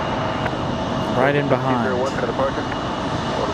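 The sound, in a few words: passenger airplane at Raleigh Durham airport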